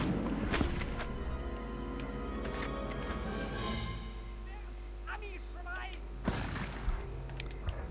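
Gunfire from the PlayStation Medal of Honor game, with shots and thuds over a constant low rumble and mechanical clatter, muffled and fairly steady with no spoken words.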